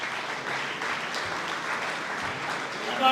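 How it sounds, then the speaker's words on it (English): An audience at a soccer club hall of fame dinner gives a steady round of clapping, moderately loud and even, with some voices faintly mixed in underneath. "a great round of applause for Tony Evangelista"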